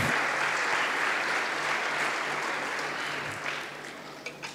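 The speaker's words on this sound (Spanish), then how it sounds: "eso merece un aplauso al Señor" A church congregation applauds during a Christmas sermon, a long, even roar of many hands clapping that holds for several seconds, then thins near the end into a few scattered, sharper claps.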